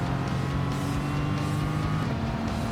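A 1954 Jaguar D-Type race car engine in Gran Turismo 7 gives a steady, loud, continuous drone, held at constant revs close up throughout, with no voices.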